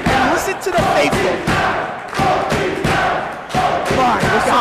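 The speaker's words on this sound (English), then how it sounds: "Listen to this crowd erupting." Wrestling crowd at a Ninja Mack versus Dante Leon match roars and chants in loud, pulsing rhythmic bursts, with thumping claps filling the arena.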